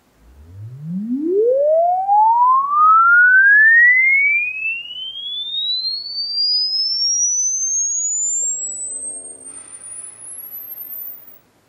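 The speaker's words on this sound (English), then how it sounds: "Crossover phase tracking test to 15 kilohertz," A pure test tone sweeps steadily upward from a low hum to a piercing 15 kHz whistle, played through a Bose Wave Radio AWRCC1 for a crossover phase tracking check; a smooth, loud, continuous glide heard alone.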